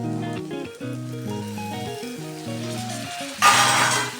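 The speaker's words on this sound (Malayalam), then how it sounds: "ഇതിലേക്ക് വൃത്തിയാക്കി വെച്ചിരിക്കുന്ന ചിക്കൻ ഇട്ട് കൊടുക്കുക" Raw chicken for chicken kurma goes into a hot pan with spices, heard as a sudden loud sizzle near the end of the clip, rising over music that plays throughout.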